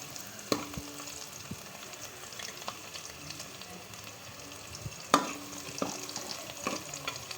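Whole spices frying in a pan, a faint steady sizzle with scattered clinks and scrapes of stirring, one louder knock near the middle, no voices.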